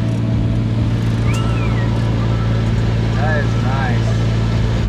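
Lexus IS300 with a Wisefab steering lock kit and a sequential gearbox, lapping with a loud constant engine roar, brief tire squeals rising and falling over it, and a person talking briefly.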